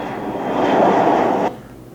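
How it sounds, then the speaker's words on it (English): An airplane flies in as a sound effect in a short film, a broad roar that swells to a peak and then cuts off abruptly, leaving quiet ambience. "So you hear the plane coming in."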